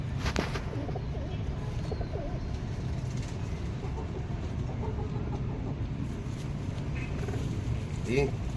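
Pigeons in a loft, black and white birds among them, coo softly and continuously under a low rumbling background, with occasional flutters and someone talking nearby.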